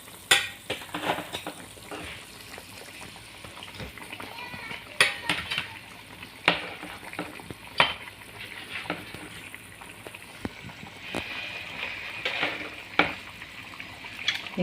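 Fish head going into boiling seasoned broth, with bubbling and sizzle-like hiss plus scattered clinks and scrapes of a utensil against the pot, fairly quiet and close, with a voice talking over it.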